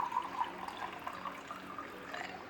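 Water trickles and splashes as it is slowly poured into a half-cup measure for pie crust dough. The close, uneven pouring runs steadily with small splashy bursts, and nobody speaks.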